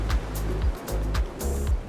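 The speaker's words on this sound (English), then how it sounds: "we can literally hear the ocean" Ocean waves heard from a Malibu home surge and wash in low, rumbling swells, rising and falling in a slow rhythm at a moderate distance.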